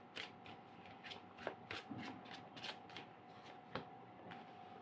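Tarot cards are shuffled by hand in quick, repeated riffling bursts, each a short papery flutter, a dozen or so in a steady rhythm, close and fairly quiet with a faint steady hum beneath.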